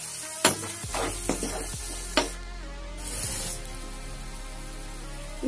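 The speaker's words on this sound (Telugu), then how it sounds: "తర్వాత టమాటా ముక్కలు వేసి కొంచెం సాల్ట్ టేస్ట్కి సరిపడంత వేసి బాగా ఫ్రై చేసుకోవాలి." Tomato pieces with salt fry in a pan for tomato mint rice, a close sizzle with several sharp spatula scrapes and clatters, then a short burst of louder hissing.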